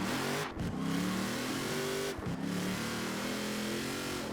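Car engine in Forza Horizon 4 revving hard during a drift, a steady loud drone with rising and falling pitch and two brief dips as the throttle lifts and comes back in.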